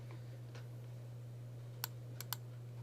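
A few sparse keystrokes on a computer keyboard while entering C++ code, three quick faint clicks over a steady low hum, no talking.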